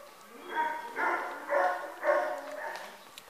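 Dogs in shelter cages bark in a run of about five evenly spaced, echoing barks, loud and fairly close, with a faint voice in the background.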